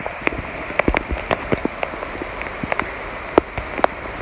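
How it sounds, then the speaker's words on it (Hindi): Steady rain patters on a hard surface, with scattered louder drops landing close by in an irregular rhythm; no voices. "देखिए कैसे बारिश होता है"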